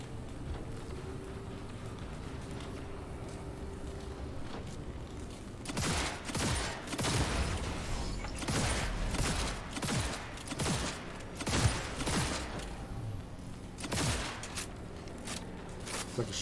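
Rapid bursts of gunfire from the video game Cyberpunk 2077, preceded by a quieter stretch of background game ambience, with shots coming in repeated clusters close and loud.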